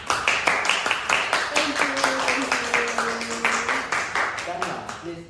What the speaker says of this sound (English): Everybody, please have a round of applause for Tania.